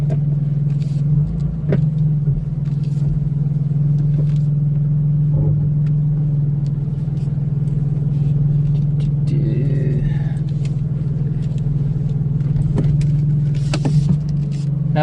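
A 2016 BMW M4 engine in normal drive mode produces a steady low drone while the car drives along, with constant road rumble and a few light clicks and rattles, and nobody speaks.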